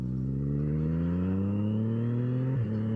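Triumph Street Triple naked middleweight motorcycle riding, its engine note rising steadily in pitch under acceleration with a strong harmonic drone, then dipping briefly near the end as it shifts, loud and close throughout.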